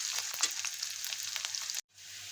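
Onion fries in a spoonful of oil in a pan, giving a steady, fairly quiet hiss of sizzling with small crackles, which cuts out abruptly near the end before the faint hiss returns.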